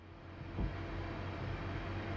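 Class 323 electric multiple unit pulling away under power in Train Simulator Classic, a steady low rumble and hum of the accelerating train running continuously with a brief thump early on.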